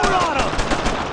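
Machine gun fire in the World War II shooter Brothers in Arms, a brief, loud, rapid rattling burst of shots at close range.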